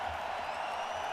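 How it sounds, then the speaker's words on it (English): A hockey arena crowd in Edmonton during a Stanley Cup Final game between the Oilers and the Panthers, a steady, dense roar of cheering that fills the whole moment. "the crowd is so loud in here in Edmonton as well"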